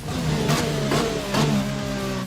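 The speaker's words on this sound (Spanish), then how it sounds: "ese sonido, por ejemplo, que hacen los Renault, que es un poquito chirriante o desagradable a la hora de bajar las marchas en el coche francés" Renault Formula 1 car in the F1 2020 racing game, its high-revving engine dropping through downshifts with a slightly harsh, grating edge, loud and close, with repeated rev blips between gear changes.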